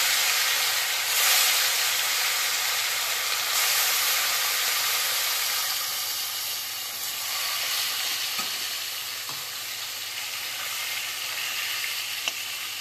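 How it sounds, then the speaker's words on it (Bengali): Fish slices frying in hot oil in a wok give off a steady, dense sizzle that stays loud and close throughout, with no one talking. "এবার আমি এক একে মাছগুলো ছেড়ে দিচ্ছি।"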